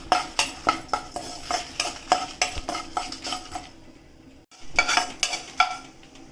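Urad dal being roasted in a pan for ridge gourd chutney, with a steady run of scraping, stirring clinks against the pan and soft sizzle, a short lull near the end, then more stirring.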